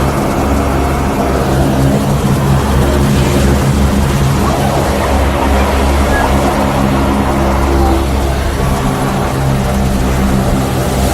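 A seaplane's engine and propeller drone steadily and loudly throughout, a constant close roar with no break.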